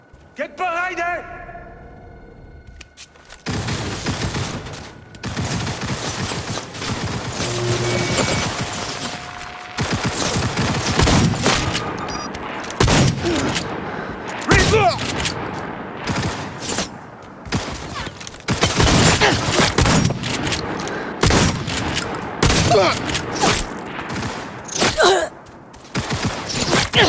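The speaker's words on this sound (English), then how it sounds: "We're taking fire!" Gunfire fills a firefight in Cyberpunk 2077 as rapid overlapping bursts crackle and boom almost nonstop, loud and close, while shouted voices call out over the shooting.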